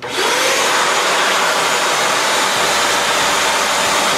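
A cheap home wet-dry vacuum cleaner switches on and sucks up water, a loud, steady, close rushing roar that starts abruptly and holds throughout.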